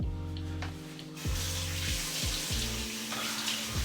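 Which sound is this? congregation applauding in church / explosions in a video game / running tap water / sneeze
running tap water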